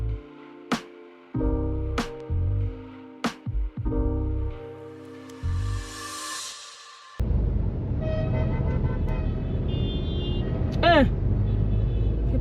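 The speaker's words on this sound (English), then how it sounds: "People in East London hoot a lot." Car horns hooting in busy street traffic in East London, South Africa, several short honks of varying pitch heard close by over a steady rumble of passing vehicles, with a voice in the background.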